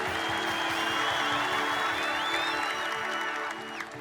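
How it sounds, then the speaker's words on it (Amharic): Crowd at a church crusade applauding and ululating, a dense, sustained wash of clapping with high trilling ululation voices riding over it, loud and continuous before easing slightly near the end. "ለዚህ ቃል እስቲ እልልታ ጭብጨባ ስጠዋል"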